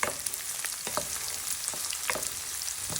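Marinade aromatics for honey garlic prawns sizzle in a hot pan while a wooden spoon stirs them, with soft irregular scrapes and knocks over a constant bright frying hiss and no voices.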